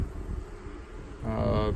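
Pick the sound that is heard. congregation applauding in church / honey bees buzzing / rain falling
honey bees buzzing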